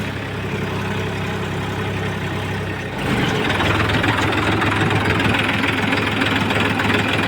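A tractor engine fitted with auto steering runs steadily throughout, a low rumbling idle that grows louder and rougher about three seconds in, then holds a constant heavy drone.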